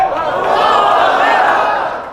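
A large crowd at a mosque inauguration roars with dense cheering and clapping, loud and continuous throughout, with no distinct voices standing out.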